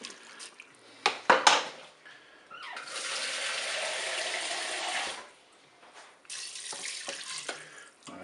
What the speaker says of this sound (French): maintenant on va mettre de l'eau pour recouvrir les ingrédients